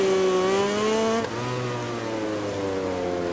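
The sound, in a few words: Ducati motorcycle engine in MotoGP 20 video game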